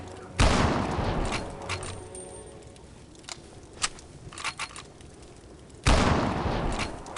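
Gunfire in the zombie video game Land of the Dead: two loud sharp shots at the start and near the end, with scattered fainter pops and clicks between them.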